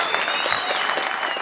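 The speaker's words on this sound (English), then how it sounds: "And I want to give you a round of applause." Crowd at a gun auction applauds, a steady wash of many hands clapping at even loudness throughout the short stretch.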